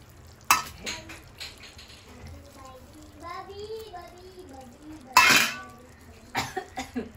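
Sharp coughs burst out twice in a home kitchen beside a finished mutton curry, the first near the start and a louder one past the middle, with a murmuring voice and faint stirring between them.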